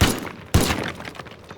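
Two sharp gunshots hitting a pillar in a video game, each a close, punchy blast with a short echoing tail, about half a second apart.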